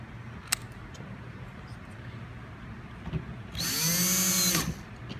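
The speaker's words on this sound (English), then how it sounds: "continue to install the first 10 screws that were previously removed" A power driver runs a screw into the chassis cover of a DS57U pigtail installation, giving one steady whirring burst of about a second after quiet room tone and a faint click.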